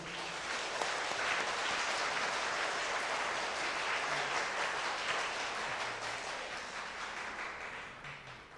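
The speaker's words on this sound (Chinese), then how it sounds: "我们请大家用掌声来谢谢他们" A church congregation applauds during a Sunday worship service, dense sustained clapping from a large crowd that holds steady for several seconds before tapering slightly at the end.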